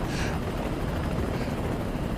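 Steady, loud rotor and engine roar of a helicopter in Microsoft Flight Simulator 2024 over Puerto Rico, the aircraft upside down after a crash, droning continuously and close throughout.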